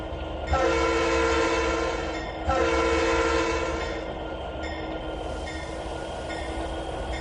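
Train pulling into a rail yard in the Trainz 2019 simulation game, with a loud sustained horn blown twice over a continuous rumbling engine and rolling noise, no talking.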